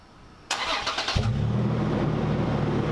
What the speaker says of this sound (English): a cold start to this elusive 4Runner with the world's most annoying exhaust